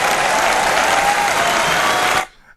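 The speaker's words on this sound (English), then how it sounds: "I don't know why people are clapping." Crowd clapping at a political speech, loud sustained applause from a large audience that cuts off abruptly near the end.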